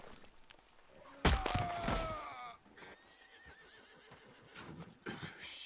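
A horse lets out a loud, sharp neigh close by in Red Dead Redemption 2, followed by shuffling hoof thuds and a short snort.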